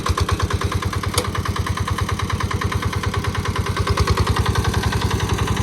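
Kubota K850 diesel walking tiller engine idling with a steady, rapid low chugging pulse, loud and close, running alone without speech throughout.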